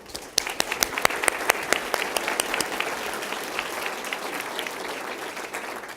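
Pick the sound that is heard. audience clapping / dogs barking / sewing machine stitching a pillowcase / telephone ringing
audience clapping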